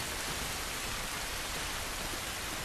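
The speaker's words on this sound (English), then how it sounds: "It's raining." Steady, dense rain in The Last of Us video game hisses evenly throughout, a continuous wash of falling drops with no breaks or voices.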